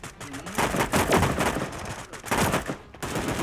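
Rapid bursts of gunfire in the Sausage Man battle game, several loud clustered shots with brief gaps between volleys, close and punchy.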